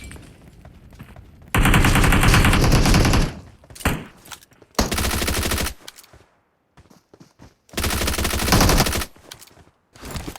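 Loud bursts of Honey Badger automatic rifle fire in the mobile battle game BGMI come in three sustained volleys, with quieter in-game noises between them.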